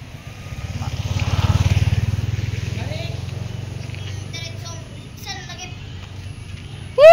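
A motorcycle engine passes nearby with a low droning rumble that swells and then fades, while children and adults call out and chatter over it.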